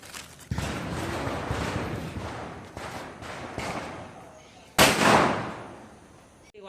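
Firecrackers set off in celebration of a newly bought Hyundai Creta: a long crackling volley of sharp pops, then a second loud blast that fades out, with some voices faintly behind.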